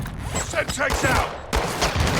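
Rapid bursts of gunfire erupt in a Call of Duty Modern Warfare II firefight, loud and close, with a sharp cut midway while game voice chatter plays over the shots.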